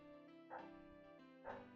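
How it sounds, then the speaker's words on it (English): A dog barks twice at about one-second intervals, each a short, close bow-wow, over a steady background hum with no talking. "y'all hear my dog barking?"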